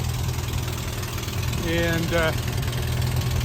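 A tractor engine idling with an exhaust manifold leak from a warped manifold, a steady close low rumble with a ticking edge throughout, a voice briefly speaking over it midway.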